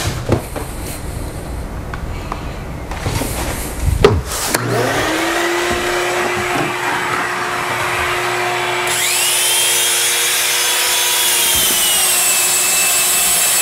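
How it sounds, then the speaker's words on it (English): Drywall joint compound is sanded on a stairway wall with a continuous, loud abrasive rasp. The sound starts with scattered scrapes and becomes a steady grinding drone that keeps going with no talking. "I'm gonna go ahead and sand this wall"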